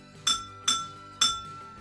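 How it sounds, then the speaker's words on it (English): Three bright, ringing clinks as a spoon taps drinking glasses, each strike sharp and then decaying with a sustained glassy tone, spaced about half a second apart with no talking. "go ahead and explore how to make sound with the glasses."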